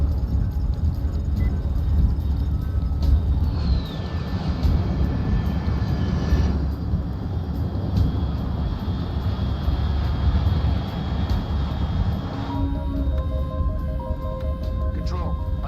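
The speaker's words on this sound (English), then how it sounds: "Control, unidentified aircraft detected." Steady drone of an unidentified fast aircraft flying at high altitude in the stealth game Metal Gear Solid Delta: Snake Eater, a continuous engine roar beneath game music and effects, with a voice speaking over it.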